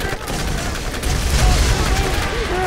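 Rapid gunfire in the video game Borderlands, a dense rattling burst of shots with booming low impacts, loud and continuous under a busy game mix.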